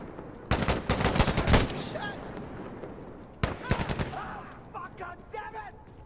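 Rapid bursts of gunfire in the tactical shooter Insurgency Sandstorm, a dense volley of loud cracks followed after a pause by a second cluster of shots, with ringing echoes and faint game effects between.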